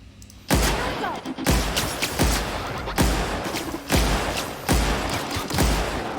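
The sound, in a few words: energy gun firing at mechanicals in The Outer Worlds video game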